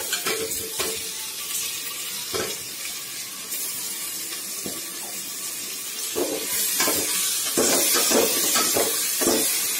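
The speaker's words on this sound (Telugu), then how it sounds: "ఇలా మసాలా కలిపిన బంగాళాదుంప ముక్కల్ని ఇందులో వేసుకొని బాగా వేయించాలి." Spiced potato pieces frying in a pan for a potato kurma, a steady sizzling hiss with scraping stirs and clatters, growing louder and more intense toward the end.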